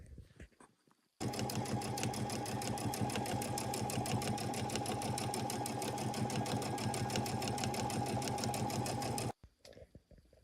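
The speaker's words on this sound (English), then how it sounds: "So I'm just going to do a basic stitch first and get it placed down" An embroidery sewing machine runs a basic stitch at a fast, steady rhythm for about eight seconds, then stops abruptly, with faint handling sounds before and after.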